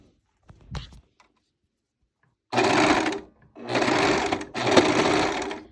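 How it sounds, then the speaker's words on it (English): A sewing machine stitches down a fabric binding strap, running in three steady, close whirring bursts after a few soft handling taps and a pause. "So just sew all the way down."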